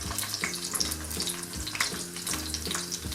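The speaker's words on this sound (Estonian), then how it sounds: "Pann on tulel. Õli panin praadimises ka ja nüüd läheb sibul." Chopped onions frying in hot oil in a pan on the stove, giving a steady dense sizzle and crackle with a faint low hum beneath, no voices.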